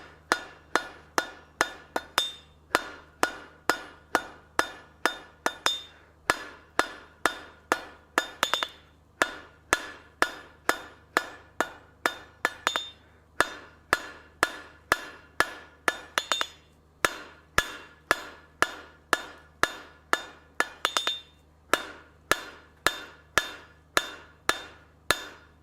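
A hammer works spline stock steel bar over the horn of an anvil, ringing out in a steady, loud series of sharp metallic strikes with brief pauses between bursts, close by with no talk.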